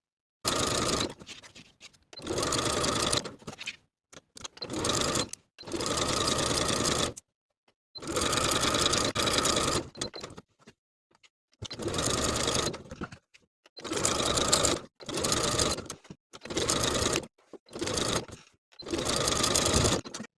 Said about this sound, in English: you can do this top stitching from the outside, just feeling through the fabric underneath to feel the finished edges